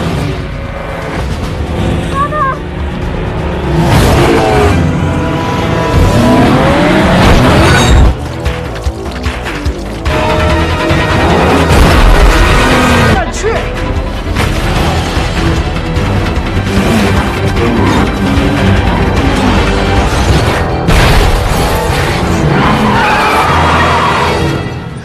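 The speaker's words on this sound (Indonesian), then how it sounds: "Lalu saat berpapasan dengan Lingdong, aksi kejar-kejaran pun tak terhindarkan lagi." A film car chase plays as a continuous loud mix of screeching, skidding tires, roaring engines, impacts and dramatic score. A voice or two cuts in briefly under the din.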